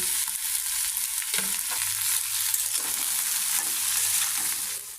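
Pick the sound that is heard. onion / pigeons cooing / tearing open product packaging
onion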